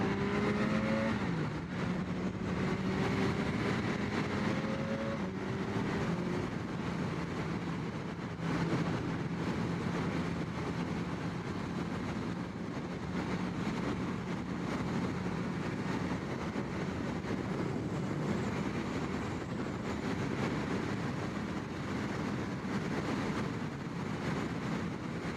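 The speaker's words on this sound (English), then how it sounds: "I know there's nothing I'm going to be able to do about the wind noise" Steady roaring wind rush while riding a BMW K1300S motorcycle, broadband and continuous throughout with engine tone shifting underneath, no talking.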